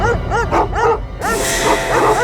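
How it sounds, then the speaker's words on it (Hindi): Several dogs bark loudly and nearby in a quick repeated rhythm of yelping barks, with a broad noisy wash rising partway through at night in a forest. "कुत्तों के भौंकने की आवाज पीछे की तरफ से आ रही है"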